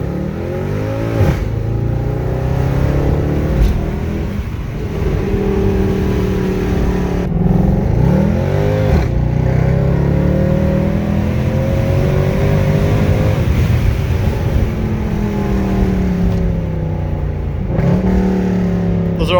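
Mercedes C63 AMG engine under steady, loud acceleration, revving up through gears with several sharp breaks where the automatic transmission shifts, the pitch climbing and dropping repeatedly close to the microphone.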